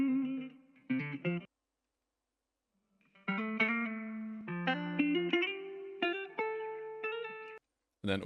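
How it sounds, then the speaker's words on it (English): A guitar-like melodic phrase from a hip-hop sample, broken into short chopped fragments, with abrupt stops and a silent gap before resuming in rearranged pieces, soaked in effects. "I chopped it up and just rearranged it to how I liked it"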